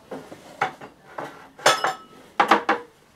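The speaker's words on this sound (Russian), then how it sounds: "мыть посуду" Dishes, pots and cutlery are washed by hand in a village kitchen, giving irregular clusters of sharp clinks and clatters, close and fairly loud, without speech.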